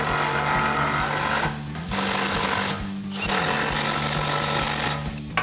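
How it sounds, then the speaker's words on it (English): A power tool, likely an impact wrench, runs in three sustained bursts with short pauses between them while tightening bolts on a Barricade Extreme HD front bumper on a 2014-2015 GMC Sierra 1500, loud and close. "Let's tighten these down."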